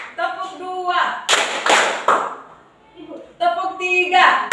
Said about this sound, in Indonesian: Tepuk tangan untuk Roman sekali.